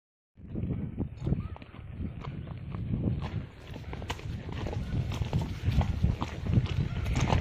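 Hooves of a horse clip-clop in a steady walking rhythm during a trail ride, close and fairly loud against outdoor ambience, continuing for several seconds with no one speaking.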